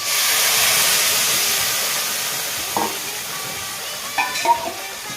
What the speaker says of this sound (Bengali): তেলটা গরম হয়েছে, মাছগুলো দিয়ে দেওয়া হচ্ছে, মশলাটাও দিয়ে দেওয়া হচ্ছে